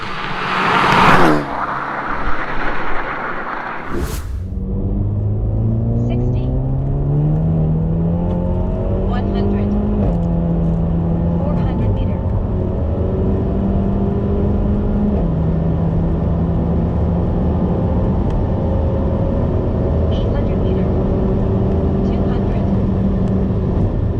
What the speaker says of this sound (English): So second run I did in sport again, but sport manual this time so I could shift a little bit sooner